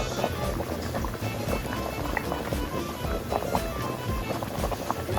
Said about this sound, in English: I'm rinsing the spinach.